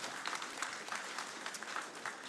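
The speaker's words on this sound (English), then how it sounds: "big round of applause" Steady, fairly faint applause from an audience at a talk on Japanese film and anime, a dense wash of many hands clapping at an even level throughout.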